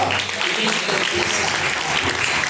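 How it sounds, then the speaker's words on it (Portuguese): Applause from a church congregation during a live worship service, a dense wash of clapping filling the whole stretch at steady strength, with talk mixed in underneath. "Palmas, louva."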